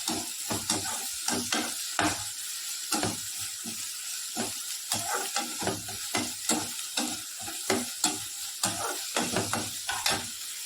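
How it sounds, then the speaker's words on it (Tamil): Garlic and ginger sautéing in a pan for prawn chukka: steady oily sizzle with repeated rhythmic scrapes of a spoon stirring against the pan, close and clear, with no talking. "நல்லா வதக்கிக்கணும். நல்லா வதங்கணும்."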